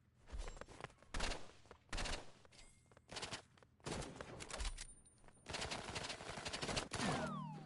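Bursts of automatic gunfire in a Roblox game, several separate rapid volleys of shots with short pauses between them, fairly close and sharp, with no talking.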